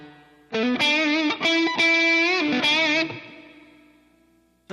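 Distorted electric guitar chords ringing through a plate reverb, several sustained strums followed by a long smooth decaying tail.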